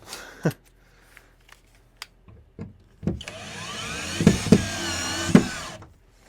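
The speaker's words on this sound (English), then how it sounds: "be careful with the drill there" A few scattered knocks and clicks, then a power drill whirs up close with a rising whine for a few seconds, with clunks mixed in, before stopping, while installing a wall mount system.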